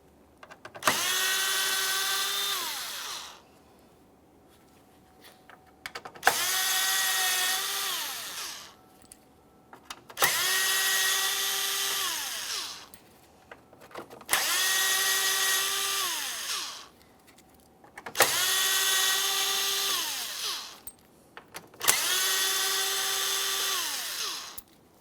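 A power tool spins out T15 screws from the front grille of a 2017-2024 GMC Acadia, six separate whirring bursts of a few seconds each with short quiet gaps between them, close and fairly loud.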